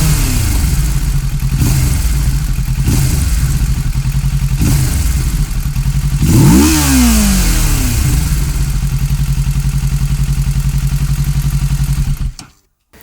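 A motorbike engine idles loudly and close, then revs up in several short throttle blips and one longer rising rev before settling back to a steady idle and cutting off at the end.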